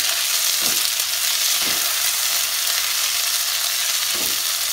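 Tomatoes and green peas frying with ginger and garlic in a pan for baingan bharta, giving a steady, loud sizzle throughout with a few soft stirring scrapes and no voices.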